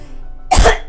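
A single loud, close cough bursts out after a near-silent pause, sharp and brief, from a person at a game recording setup.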